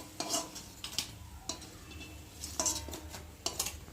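Fried fritters lifted one by one out of a frying pan, with a faint oil sizzle beneath recurring sharp metal clinks and scrapes of the utensil against the pan, close and without speech.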